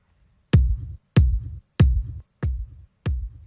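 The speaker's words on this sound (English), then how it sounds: "we can turn a standard drum, such as this" Five evenly spaced drum hits thump alone, each a deep kick with a short decaying tail, steady and moderately loud.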